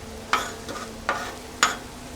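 Alligator tenderloin fajitas sizzle in a pan with a steady low hiss, broken by three sharp utensil clinks and scrapes as the meat is stirred. No one speaks.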